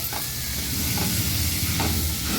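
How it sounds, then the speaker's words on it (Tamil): Snake gourd sautéing in a pan for pachadi, a continuous dense sizzle and hiss with a few faint stirring scrapes, close and steady, no voices. "இந்த புடலங்காய் நல்லா வதங்கி வர்றதுக்காக நம்ம இதுக்கு உப்பு சேர்த்துக்கலாம்"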